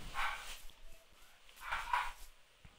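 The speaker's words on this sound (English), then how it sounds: "And that's my dog." A dog in the Minecraft video game barks twice in short, thin bursts about a second and a half apart, moderately quiet, with faint background game sounds and no talk.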